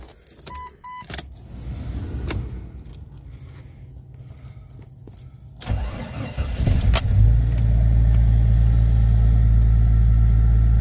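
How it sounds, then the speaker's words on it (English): Keys jangle and clatter before a 1997 Jeep Cherokee engine cranks briefly on a cold start. It catches and settles into a steady, loud, close idle rumble, with no speech. "it's a cold start."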